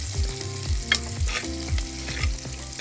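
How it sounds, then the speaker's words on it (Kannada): Chopped onion fries loudly in a pan while being stirred, a constant crackling sizzle punctuated by regular knocks of the spoon against the pan, with no voices. "ಅರ್ಧ ಇಲ್ಲಿ ಫ್ರೈ ಮಾಡ್ಕೊತಾ ಇದ್ದೀವಿ"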